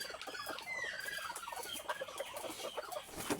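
Chickens and a rooster clucking at a farm, a busy overlapping chorus of clucks and short calls at moderate distance, with no speech.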